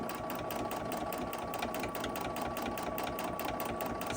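A sewing machine runs steadily in a tight satin stitch around the edge of fabric, its needle pattering in a fast, even rhythm, close and continuous with no talking.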